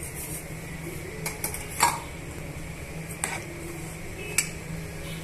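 A spoon stirs roasted semolina (rava) and sugar in a metal pan for rava kesari, making a quiet scraping hiss punctuated by a few sharp clinks and taps of the utensil against the pan, without voices.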